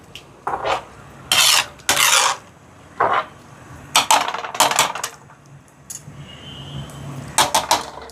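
A spoon stirs lentil dal in a metal cooking pot, giving a series of close, clanking scrapes and knocks in irregular bursts, loud against a quiet background, with no talking.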